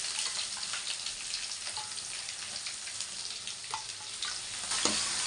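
Small fish fry in hot oil in a pan, a steady close sizzle with faint stirring and scraping touches throughout.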